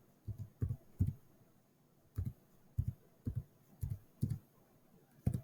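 Soft calculator key presses come in short clusters of two or three taps separated by pauses while a division is entered, faint and close with no talking.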